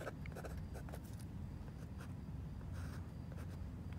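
A pencil scratches across paper during a math lesson on domain and range, with quiet, irregular strokes and short bursts of writing and no voice.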